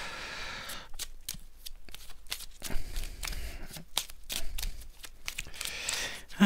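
Playing cards are handled and drawn, producing a series of quick, crisp flicks and riffles in irregular bursts, close and fairly quiet, with no talking.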